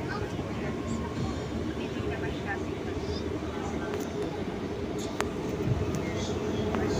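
An MRT metro train in Manila rumbles along steadily, its low mechanical drone and rattle continuous and moderately loud throughout.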